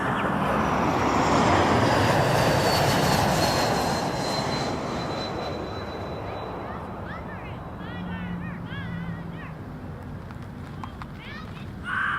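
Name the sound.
airplane at Toronto Pearson Airport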